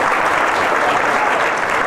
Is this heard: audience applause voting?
yes